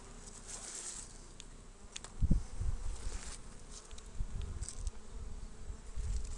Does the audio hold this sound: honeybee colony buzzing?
yes